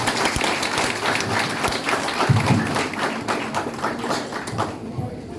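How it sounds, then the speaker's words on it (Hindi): Sustained audience applause fills a hall at a seminar, dense clapping throughout at steady loudness. "प्लिज जोरदार तालीले सम्मान गरिदिनुहोस्।"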